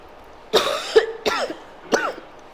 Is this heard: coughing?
yes